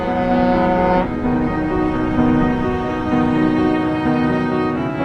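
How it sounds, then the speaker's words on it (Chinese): A steamship's deep horn blasts steadily as the vessel comes in to dock at a Hainan harbour, a loud sustained tone that shifts pitch once and carries on through the whole stretch. "从内地驶来的轮船已经响起靠岸的鸣笛"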